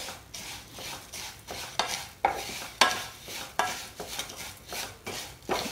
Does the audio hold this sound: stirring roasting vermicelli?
yes